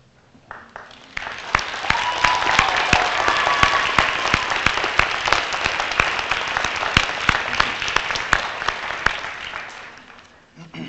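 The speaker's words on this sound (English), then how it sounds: "we can give them a round of applause" Audience at a 2016 alternative high school graduation ceremony in Greeley-Evans applauds as the staff stand, a full round of clapping that swells quickly, holds steady and fades out near the end.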